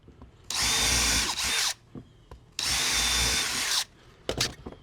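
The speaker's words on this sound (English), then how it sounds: "So we'll go ahead and pre-drill for the screws that are going in top of the" A power drill pre-drills screw holes into the top of a wooden post, running in two loud, steady bursts of about a second each, with brief handling knocks and clatter between and after them.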